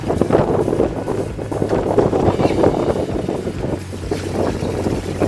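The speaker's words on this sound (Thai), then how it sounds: "เพราะลมตอนนี้ลมกันโชกแรงมากครับตอนนี้ครับ" Strong gusting wind buffeting the microphone outdoors at a field hut during a rainstorm, loud and continuous roaring with surging gusts.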